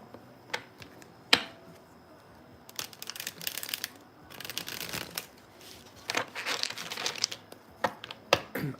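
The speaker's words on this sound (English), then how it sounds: "while I shuffle your cards" Playing cards are shuffled close up in quick bursts of riffling and snapping, with pauses between rounds and soft handling noises in the gaps.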